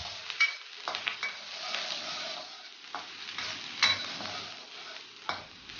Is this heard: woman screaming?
no